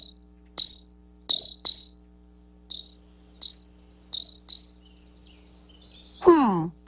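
Cricket chirping, a voice imitating the sound: eight short bright chirps spaced irregularly and close by over a quiet steady hum, ending in one longer, louder sweeping call.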